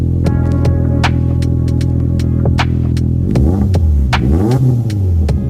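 A 2021 Subaru Impreza with a freshly bolted-on Nameless exhaust idles with a loud, throbbing burble. Short blips of the throttle follow, each rising and falling, and nobody speaks.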